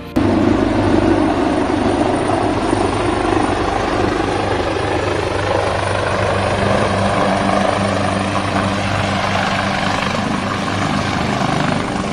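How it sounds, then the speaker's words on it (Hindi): A helicopter landing on the police line helipad in Chittorgarh amid heavy security, its rotor and engine thrumming loud and close, steady throughout with no talk. "उनका हेलीकॉप्टर भारी पुलिस सुरक्षा के बीच पुलिस लाइन के हेलीपैड पर उतरा है।"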